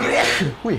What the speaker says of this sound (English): Bless you, man.